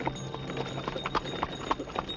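A horse's hooves clip-clop in a steady walking rhythm on a road at night, close and clear with faint background noise, in a 1988 Indonesian film scene.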